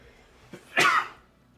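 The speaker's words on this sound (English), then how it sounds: "how loud was that sneeze?" A single sharp human sneeze, a short intake followed by a loud burst, close to the microphone in an otherwise quiet room.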